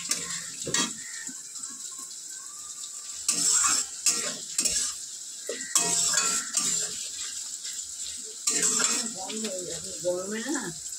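Spiced food stirred and fried in a pan, with scraping of a spatula against metal and a faint sizzle in bursts, close by, while someone talks over it at times.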